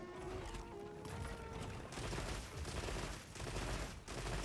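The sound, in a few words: shooting at a monster in a video game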